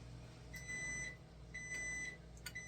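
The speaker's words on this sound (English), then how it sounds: "I'm preheating my air fryer to 400 degrees. And it's telling me it's done." An air fryer preheated to 400 degrees signals it is ready with three faint electronic beep pairs spaced about a second apart, quiet over a low kitchen hum.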